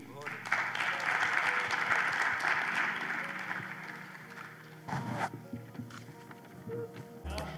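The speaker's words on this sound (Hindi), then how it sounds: "आपकी भरपूर तालियों में जनाब मोहम्मद मुहीउद्दीन" An audience at an Urdu poetry gathering at a Moscow university applauds for several seconds, the clapping fading as a voice and shuffling noises take over near the end.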